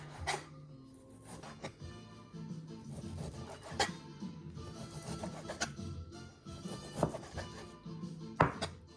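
Knife slicing thin strips of beef against the grain on a cutting board, a quiet series of irregular taps and thunks with soft scraping between strokes.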